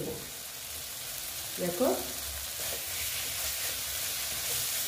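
Young jackfruit frying in a pan of cooked spice masala gives a steady, moderate sizzle with some stirring, while a voice speaks briefly near the middle.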